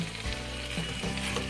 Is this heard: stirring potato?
yes